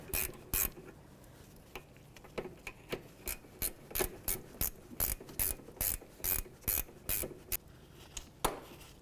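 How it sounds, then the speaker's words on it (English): A gear wrench ratchets bolts off the rear brake caliper of a 2010–2015 Lexus RX350, giving about two dozen quick ratchet bursts in a steady rhythm, close and crisp, with nobody talking. "I just got a gear wrench to let it go faster"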